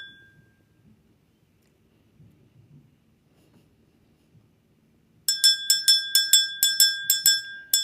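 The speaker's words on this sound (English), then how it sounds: "Let me ring my bell." A small bell rung in a rapid series of bright, ringing strikes after a quiet stretch of faint background rumble, close and fairly loud.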